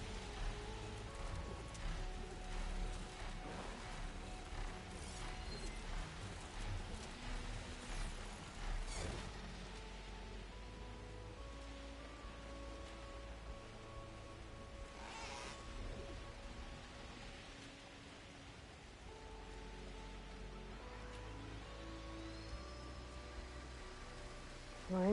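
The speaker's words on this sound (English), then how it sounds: "Flying through rain." Rain falls in the video game Horizon Forbidden West while the character is flying, a soft continuous wash of rain heard faintly beneath game music and ambience.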